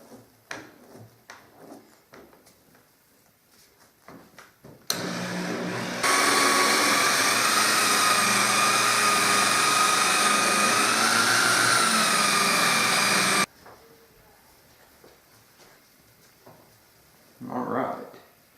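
A polisher runs at low RPM on car paint to fix swirls and scratches: a steady, loud mechanical whir that holds for about eight seconds and then stops, with quiet rustling before and after.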